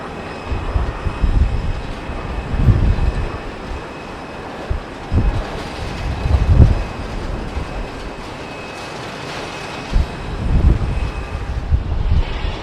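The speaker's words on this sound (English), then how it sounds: "British Airways, little A380, coming in from Basel." A British Airways Airbus A380 airliner comes in to land at Heathrow Airport, its engine roar rising and falling under gusty wind buffeting close to the recorder.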